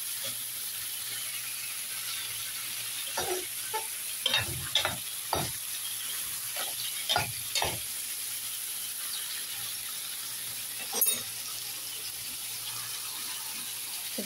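Large squid being cooked as adobo in a pan, a quiet steady sizzle with several sharp scraping stirs of a utensil against the pan, spaced irregularly and close by, with no talking.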